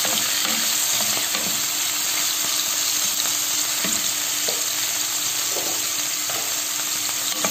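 Pieces of meat fry in melted ghee in a hot pot, a loud steady sizzle and crackle running the whole time with occasional small stirring knocks, and no one speaking.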